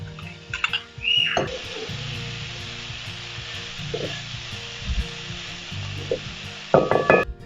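Tomatoes and saltfish sizzle in a pot for a green banana curry, a steady soft frying hiss close by, broken by a few stirring clunks and utensil knocks.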